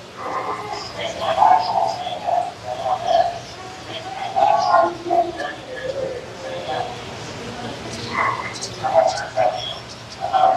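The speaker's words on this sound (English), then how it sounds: "Oh, there's a bird." Doves or pigeons coo repeatedly in soft, low, rounded calls inside a huge walk-through bird aviary, with a few other bird sounds and a steady ambient hum around them.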